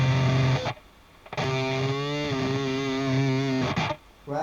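A distorted electric guitar plays a riff. A low chugged note gives way to a sustained string bend that wavers upward in pitch, and a short muted gap sits between the phrases. The playing is loud and close, with no talking.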